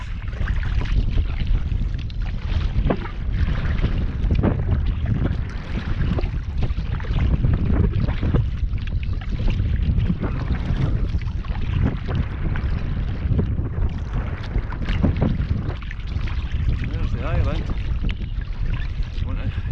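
A packraft is paddled straight into a strong wind on open water, the scene dominated by loud, constant wind buffeting the microphone, with faint water and paddle noise underneath.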